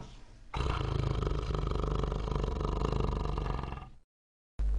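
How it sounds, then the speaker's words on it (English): A tiger gives one long, loud, rumbling roar that holds for several seconds before cutting off abruptly. "Tiger."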